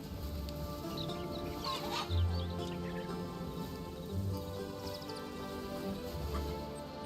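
Chickens cluck faintly within the ambient soundscape of the Hytale video game, soft low bird calls recurring over a steady background wash.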